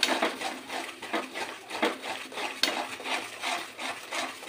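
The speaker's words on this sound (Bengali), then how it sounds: "জোর করে নাড়বে।" Amla being stirred vigorously in a pan for a digestive mixture gives a soft, continuous scraping and rustling in repeated strokes, fairly quiet and close, with no talking.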